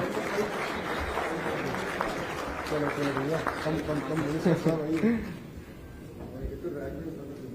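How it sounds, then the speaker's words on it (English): Crowd applause at a government aerospace manufacturing event in Vizag, honoring a guest, a steady wash of clapping with tonal music or voices running beneath it before it thins out near the end. "Round of applause, ladies and gentlemen, for sir."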